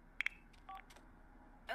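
Telephone keypad dialing tones, a quick pair of beeps followed by a few more scattered key presses, fairly close and clear with near silence between.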